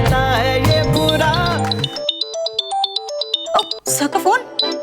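A song with singing gives way to a loud electronic phone ringtone playing a stepped, repeating melody.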